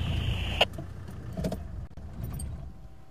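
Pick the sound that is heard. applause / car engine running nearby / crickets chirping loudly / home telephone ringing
car engine running nearby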